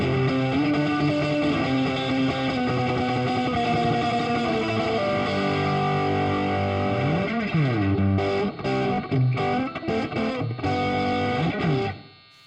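Heavily distorted electric guitar played through a digital amp, a sustained buzzing wall of chords with sliding notes and choppy muted stabs toward the end before cutting off, loud and continuous.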